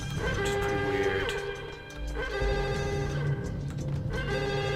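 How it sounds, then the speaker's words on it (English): A telephone rings inside the Max Payne PC shooter, a repeating electronic ring with two long tonal bursts separated by a brief dip, loud and steady over a droning game background. "There's a phone call?"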